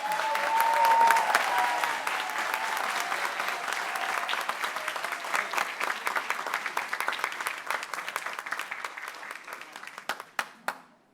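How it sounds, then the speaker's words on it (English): An audience at a school district board meeting bursts into applause on cue. The dense clapping holds strong, then thins to scattered individual claps before stopping. "Everybody give a round of applause on three"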